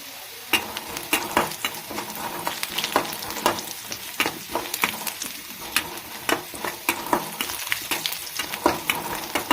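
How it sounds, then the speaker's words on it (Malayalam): Mustard seeds and a pinch of fenugreek spluttering in hot oil for a dried prawn and mango curry, with sharp irregular pops and crackles bursting over a continuous sizzle, close up and with no voices. "ഒരു 3 ഉലുവയും കൂടെ നുള്ളിടാം കടുക് താളിക്കുന്നുണ്ട്."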